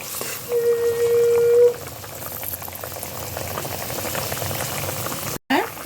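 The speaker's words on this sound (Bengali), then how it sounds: "ঝোলটা ফুটে গেছে, এবার মাছগুলো দিয়ে দেব।" Mustard curry for hilsa fish boils steadily in a pot, a continuous bubbling and popping hiss close by, with a brief tonal beep early on and a short dropout near the end.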